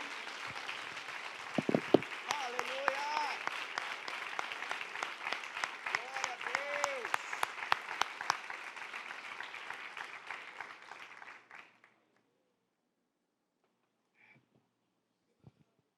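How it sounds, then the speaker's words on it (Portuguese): A church congregation at a Quadrangular early-morning service claps loudly and energetically for about eleven seconds, with a few voices calling out over the dense applause, then the sound cuts to near silence with a couple of faint knocks. "Se vai aplaudir, aplauda forte."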